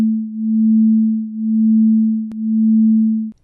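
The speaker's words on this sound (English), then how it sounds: "Say you have two tones, one is at 220 cycles per second and the other is at 221." Two pure sine tones at 220 and 221 Hz sound together, producing a steady low hum that swells and fades about once per second in slow beating, three clear pulses before cutting off.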